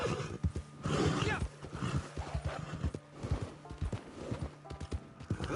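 A horse in the video game Red Dead Online whinnies loudly, while rapid clip-clop hoofbeats sound close and clear throughout as it moves at a quick, uneven pace.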